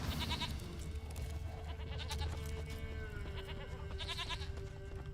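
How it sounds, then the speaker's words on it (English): A goat bleats in The Witcher 3, several short wavering calls in two bursts, moderately close, over a steady game ambience with music. "Oh, I hear the goat."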